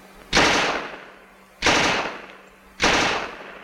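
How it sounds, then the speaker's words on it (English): A Tommy gun from World War II close-combat training fires three loud, separate bursts of rapid automatic fire, each sharp onset tailing off before the next, with no talking. "A Tommy gun."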